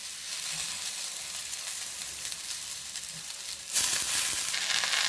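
Chopped vallarai keerai greens fry in a pan with a steady, close hiss of sizzling oil that swells louder near the end as more moisture hits the heat, with no talking.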